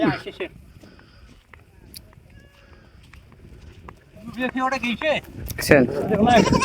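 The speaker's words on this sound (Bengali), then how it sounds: "খোলা মনে ছাগল ঘাস খাচ্ছে" Goats grazing on a Teesta river sandbar bleat in several short calls, growing louder and more frequent toward the end, against quiet open-air background with faint distant sounds.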